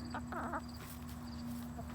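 Hens cluck in a barn, with a few short, quick clucks near the start over a steady low hum, faint and somewhat distant.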